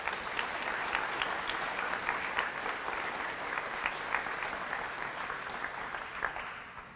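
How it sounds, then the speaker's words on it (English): Steady, moderately distant audience applause at an indigenous graduation ceremony, continuous crowd clapping with scattered sharper claps that tapers slightly at the end. "and please give Kathy a round of applause."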